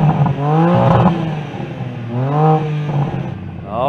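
A new BMW M3 revs while standing still, two loud rising blasts close by, each swelling up and easing back down, with engine idle rumbling in between.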